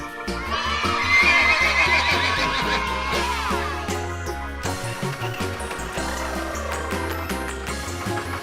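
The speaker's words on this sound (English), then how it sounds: "horse." A horse neighing sound effect: a loud, drawn-out whinny that rises and falls, layered over busy musical tones and rhythmic thumps that continue throughout.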